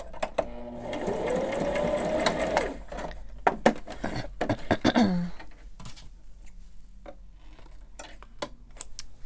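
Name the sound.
sewing a paper journal pocket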